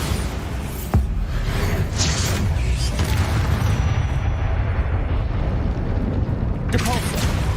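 Bombarda explosion spell in Hogwarts Legacy, with a sharp boom and rumbling blasts over dense, loud game ambience, and a later whooshing burst as the effect fades out.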